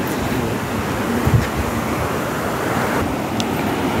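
Ebor Falls waterfall along a walking track, heard as a broad continuous rushing wash at a steady level with no voices.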